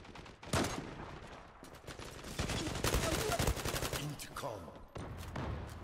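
Gunfire in the online shooter Zula, with dense bursts of rapid shots and a steady stream of automatic fire, loud and close, continuing across the whole stretch.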